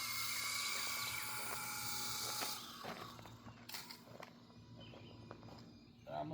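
A small RC helicopter flies and climbs, its faint steady whine and buzzing rotor tone holding throughout, with scattered clicks and rustles nearby and a softer, more broken stretch toward the end.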